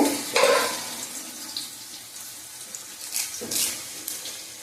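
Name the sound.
onions frying in pan for chicken curry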